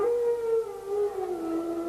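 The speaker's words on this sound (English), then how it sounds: "there we hear those ominous howls" Ominous wolf howls played over the arena sound system for a wrestler's ring entrance at a UK wrestling event: a long, sustained, wavering howl that dips in pitch, alone and fairly clear.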